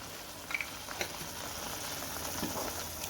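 A steady, dense hiss of frying in oil for a South Indian anchovy curry, close and even, with a few soft stirring clicks early on and no voices.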